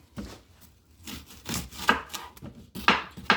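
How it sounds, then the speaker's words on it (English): A knife slices through an onion for a Cameroonian roasted fish pepper dip, giving a run of crisp cutting strokes in an uneven rhythm, each ending in a sharp, bright snick close by. "I'll be like slicing up my onion"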